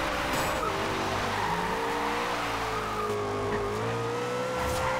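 Ford Mustang tires spinning and squealing in second gear in Forza Horizon 2, a steady engine roar with sustained wheelspin screech, close and loud with no talk.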